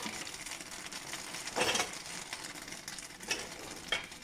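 Cream being stirred in a pan, heard as soft scraping swishes with a few clearer strokes against a low steady background hiss, quiet and close.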